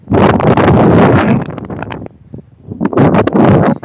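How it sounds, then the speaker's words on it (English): Strong wind buffets the microphone in loud roaring gusts, easing briefly in the middle before blasting again. "It's too windy out here."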